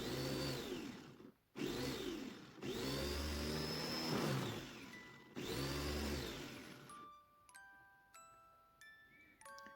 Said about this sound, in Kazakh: Енді осындай пияздарымызды шопперге салып, кішкене су құйып жіберіп,